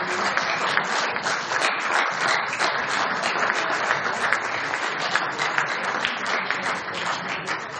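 Steady, dense clapping from a large audience at a gathering honoring a rabbi, loud and continuous for about eight seconds without pause.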